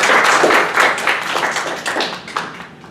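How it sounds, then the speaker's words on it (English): A crowd claps steadily for a few seconds, the applause gradually thinning out toward the end. "I feel like we should give them a round of applause"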